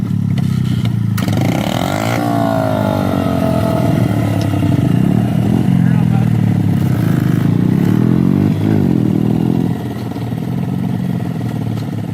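Loud, close kid's motorcycle engine droning and revving continuously throughout, with rising and falling pitch as it changes gear, rough clattering texture and no clear speech.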